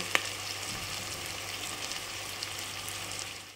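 Chicken pieces go into a pan of already-fried onions and tomatoes, producing a quiet, steady sizzle throughout with a brief sharper crackle near the start and no talking.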